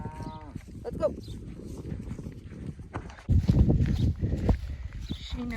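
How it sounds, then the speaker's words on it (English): A cow on a small homestead lows a few times over the sound of hooves and shuffling on the ground. The movement grows louder and closer partway through. "There's the sweet baby cow, just soaking in the sun."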